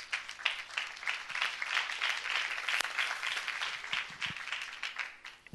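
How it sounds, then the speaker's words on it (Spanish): Conference audience applause for the Principios association, a dense, steady wash of many hands clapping throughout, moderately loud, with a few sharper individual claps standing out. "pido un aplauso por Principios"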